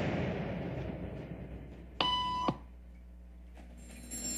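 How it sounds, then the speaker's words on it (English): A single short electronic beep sounds clearly in a room during a social conformity experiment, set against a quiet background hum. "They hear a beep, they stand up."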